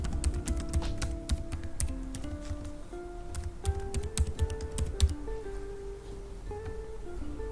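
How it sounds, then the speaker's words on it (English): Steady rapid typing on a computer keyboard, close up, with a continuous low hum in the background. "I'm typing in my email."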